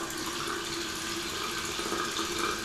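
Hot tap water runs steadily into a sink while warming up for a wet shave with a safety razor, a continuous close, even hiss of flowing water with no voices.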